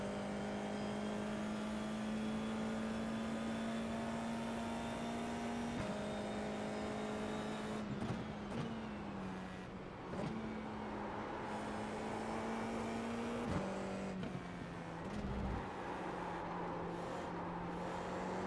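A Formula 4 race car in iRacing drives at Silverstone with a steady, loud engine drone that holds pitch, then dips and climbs again through several quick gear changes and throttle lifts.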